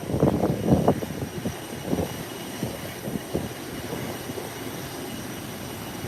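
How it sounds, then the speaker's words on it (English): Small Cessna at an airport getting ready for takeoff, its engine giving a low, throbbing rumble that is loudest at first and then settles into a steadier drone at a moderate distance. "Little Cessna from the private FBO heading into their private island, Amber's Keys."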